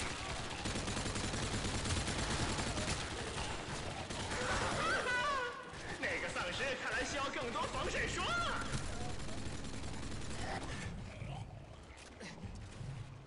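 Sustained gunfire in Call of Duty zombies mode, with rapid automatic bursts and layered shots running almost continuously. Dense game noise surrounds it and a voice talks over the shooting.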